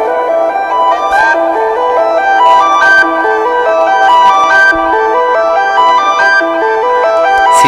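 In-game music from Minecraft Pocket Edition 1.1.0: a gentle, steady melody of stepped tones over soft backing, loud and continuous with no talking.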